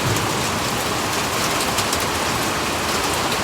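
Heavy rain pours down on a farm, a dense, loud, steady hiss of drops hitting surfaces with no break and no voices.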